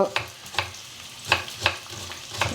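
Frying in a little oil while cooking gutti vankaya, stuffed brinjal curry, with a steady sizzle broken by about six sharp stirring scrapes at an uneven rhythm, close and alone without talk.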